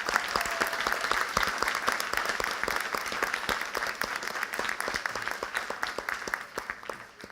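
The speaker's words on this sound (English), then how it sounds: "a round of applause for everybody." Steady applause from an audience at a Yorktown High School board of education award ceremony, dense clapping sustained for several seconds at moderate distance before thinning slightly at the end.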